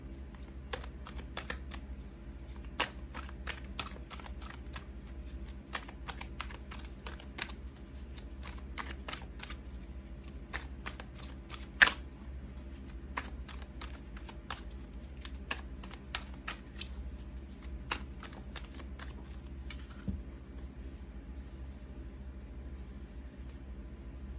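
Tarot cards are shuffled steadily at close range, their soft riffling ticks and flicks repeating over a quiet room with a faint low rumble underneath.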